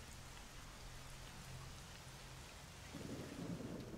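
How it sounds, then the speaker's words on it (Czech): A thunderstorm in S.T.A.L.K.E.R.: Shadow of Chernobyl brings steady, dense rainfall over low rolling thunder that swells louder near the end, with no voices. "Bouřka."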